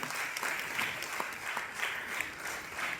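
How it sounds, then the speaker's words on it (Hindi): An audience at a school annual day function claps in a sustained round of applause, steady and moderately distant, with a faint voice underneath. "मैं चाहूंगा जोरदार तालियों से अभिनंदन होना चाहिए ऐसे कार्यों का।"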